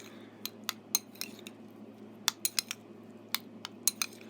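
Utensil clicks and taps against a pouch or container as MRE humanitarian ration food is mixed with crushed peppers: a close, sparse run of sharp clinks scattered irregularly over quiet background.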